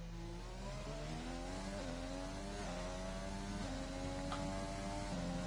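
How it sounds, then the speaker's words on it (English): A Red Bull Formula 1 car with a Honda engine in a racing video game, revving loudly and climbing through the gears, each upshift dropping the pitch before it rises again, several times in a row. "We'll see him changing up through the gears there in the Red Bull with that Honda engine."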